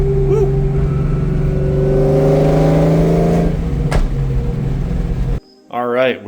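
A 2003 Ford SVT Cobra engine revs loudly and steadily with a rising, harmonic-rich drone for about five seconds, then cuts off abruptly before a brief voice is heard.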